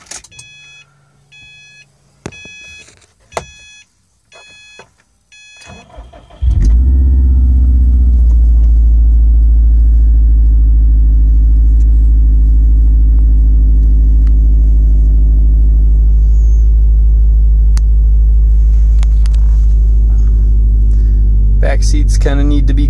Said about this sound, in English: Do a quick cold start.